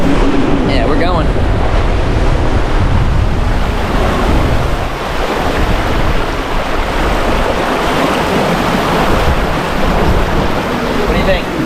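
A heeled-over sailboat cuts through waves at about 7.5 knots in the Gulf Stream, with constant loud rushing water, surf wash and heavy wind buffeting on the microphone, near and continuous.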